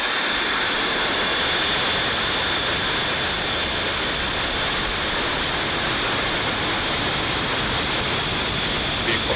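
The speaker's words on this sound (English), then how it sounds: "And liftoff, OneWeb 3." Rocket liftoff on the OneWeb 3 mission, a loud, sustained broadband roar that fills the scene steadily without letting up, heard from a distance with no voices over it.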